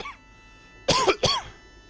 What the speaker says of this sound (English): also me coughing